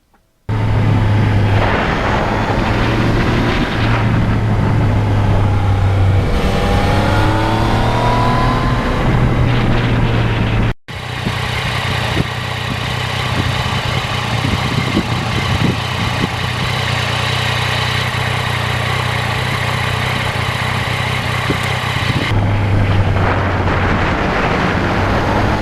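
A 2020 Yamaha MT-09 naked motorcycle engine hums steadily while riding, a loud sustained drone with shifting pitch and rev changes, wind roar around it, continuous for about twenty-five seconds.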